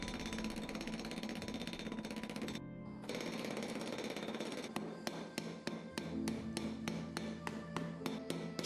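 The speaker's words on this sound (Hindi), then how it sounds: "शाम तक हथौड़ी की आवाज से साफ पता चलने लगा कि फॉइल की प्लेट काफी ठोस हो रही है" Hammer blows on a folded kitchen-foil plate being compacted into a solid block for a knife, first a dense continuous clatter, then a brief pause, then a run of sharp, evenly spaced metallic strikes, loud and close.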